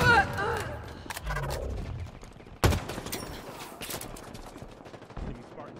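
Halo Infinite multiplayer combat with a grenade toss and bursts of gunfire, fast crackling volleys and a sharp blast near the middle, loud and close, with game voices and chatter mixed in.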